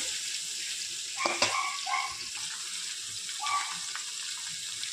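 Garlic paste and green chillies fry in a pan for Gorkha chutney, giving a soft steady hiss with a few brief clinks and scrapes of a utensil near the middle.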